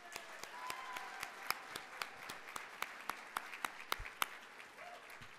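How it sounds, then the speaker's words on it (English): Applause at the 2011 MDA Gala for honorees Eddie Mason and Dr. Sally Evans, a steady roomful of clapping with sharp individual claps standing out, fairly quiet and distant. "We have you give them a round of applause"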